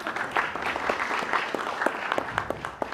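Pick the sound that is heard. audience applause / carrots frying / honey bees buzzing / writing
audience applause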